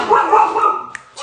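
Dogs bark at the mailman in a quick, loud burst of yips and woofs close by, then briefly fall quiet.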